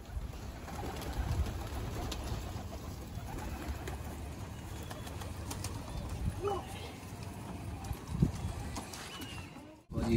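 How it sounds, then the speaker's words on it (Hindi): Pigeons in a Delhi loft give soft coos and shuffling movement, with a steady background murmur of voices. "तो भाई ये कबूतर हैं, देख सकते हो सारे अपने"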